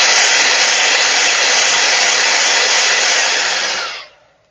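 A hair dryer blows steadily and loudly at close range for about four seconds, drying wet paint on a glass jar, then cuts off abruptly with a short fading tail.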